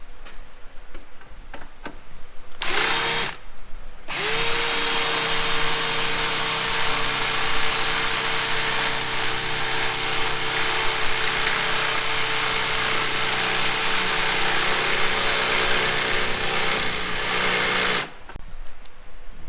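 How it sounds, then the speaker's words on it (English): A power drill boring holes through a metal plate for a chassis-mounted splitter on a track Nissan R32, a loud steady whine running continuously for about fifteen seconds after a few short bursts. "You drill holes through obviously this side to put this first plate on."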